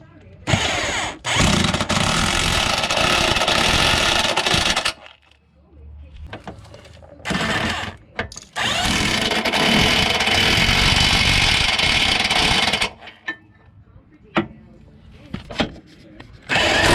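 Loud power tool whirring in long sustained runs while subframe bolts are driven down on an MK4 Volkswagen GTI/Jetta, with pauses between, clicks and clanks of tools, and brief talk in the quiet gaps.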